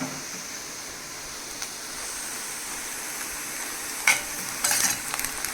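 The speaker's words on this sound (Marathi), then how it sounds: "कांदा छानपैकी आपण गोल्डन ब्राऊन भाजून घ्यायचा आहे" Onion fries in a pan until golden brown for stuffed brinjal masala, a low even sizzle with a sharp clatter of stirring partway through and a few more scrapes toward the end.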